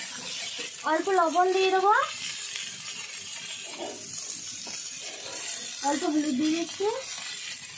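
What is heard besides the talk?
pointed gourd (potol) frying in hot oil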